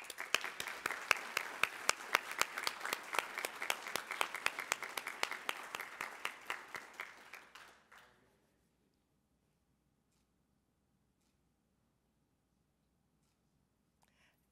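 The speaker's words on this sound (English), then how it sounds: "Please join me in giving the gold winners a round of applause." A ceremony audience gives sustained, dense applause for gold prize winners at the Oskar Fischer Prize event. It is loud and steady for about eight seconds, then tapers off abruptly into near silence.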